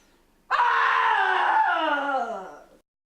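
Woman lets out a single loud, sustained scream that lasts about two seconds and then trails off and falls in pitch.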